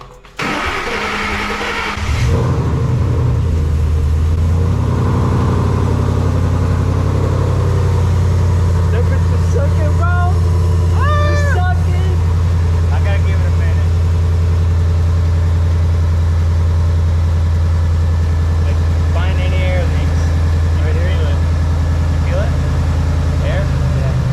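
A Ford Mustang 5.0 V8 cranks and starts, then settles into a loud, steady low idle with a few blips of revving, while people talk nearby over the engine.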